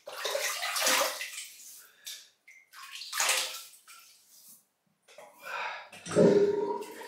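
Water draining from an old sink at a wet-shaving station, heard as gurgling, sloshing bursts in uneven spurts with short gaps, close and moderately loud, ending in a deeper glug.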